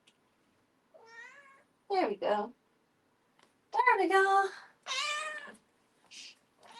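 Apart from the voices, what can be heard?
cats meowing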